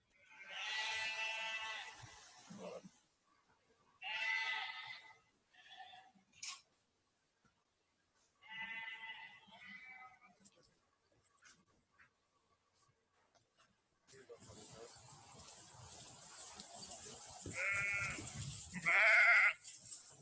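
Small flock of about twenty sheep with a few lambs on a smallholding, bleating in separate bursts with quiet gaps between them, then a busier stretch of overlapping calls near the end. The bleats sound moderately close but fairly faint.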